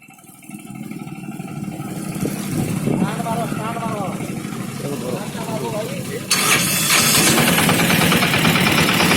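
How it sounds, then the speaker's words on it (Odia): A Piaggio Ape BS6 auto-rickshaw with a direct-injection diesel engine cranks, catches and settles into a steady idle, then the engine note grows louder and harsher near the end, with someone talking over it. "DI ଇଞ୍ଜିନ୍ ଡାଇରେକ୍ଟ ଷ୍ଟାର୍ଟ ହେଉଛି ଟିକେ ଷ୍ଟାର୍ଟ କଲ"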